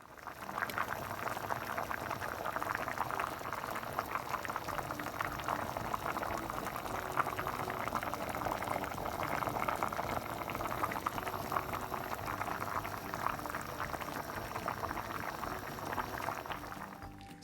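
A covered pot of Jamaican rice and peas with pig's tail boils steadily, a soft continuous bubbling and simmering heard close up, faint and unbroken throughout.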